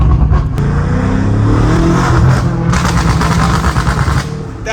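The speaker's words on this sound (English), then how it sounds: "this is how your car sounds with enhanced crackle and pops" BMW M5 Competition tuned to Stage 2 with enhanced exhaust crackle and pops, heard loud and close as the engine drops a gear: a steady rumbling engine broken by rapid bursts of sharp popping crackles, with no talk.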